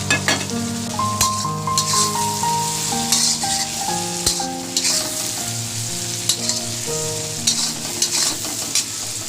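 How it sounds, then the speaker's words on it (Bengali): Fried chicken pieces sizzle loudly in a pan for chow mein, the continuous crackle broken by repeated scraping and stirring strokes of a spatula, close up. "ভাজা ভাজা এসেছে এবার চিকেনটাও পুরো সেই ভাজা চিকেনটাও ঢেলে দিলাম"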